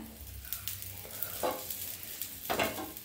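Chapati roasting in oil on a hot pan gives a soft, steady sizzle close by, with a couple of brief louder bursts of frying as the flatbread is turned.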